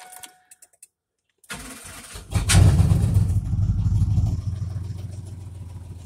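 A 1999 Cadillac Escalade with a 5.7 Vortec and 190,000 miles cold-starts through a 3-inch straight pipe: a few faint clicks, a cranking starter, then the engine catches with a loud roar and settles into a rumbling idle.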